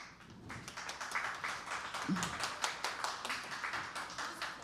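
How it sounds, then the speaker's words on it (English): An audience at a live comedy show claps for comedian Erica Kuharski, steady overlapping handclaps from a modest crowd, moderately loud and sustained throughout with faint voices beneath. "if you want to hear more jokes from Erica Kuharski, clap your hands"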